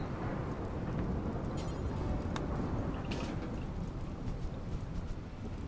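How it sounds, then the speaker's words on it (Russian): A thunderstorm rages in the colony video game Rimworld, with lightning striking a house. Dense rain roars steadily throughout, broken by a few sharp cracks and rumbles of thunder. "что прям в дом молния била"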